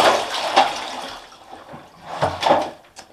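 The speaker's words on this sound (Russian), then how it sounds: "всю воду я всю выливаю полностью" Water is poured out of a bucket holding soaked red fish, splashing and gurgling in two uneven bursts with a quieter trickle between them.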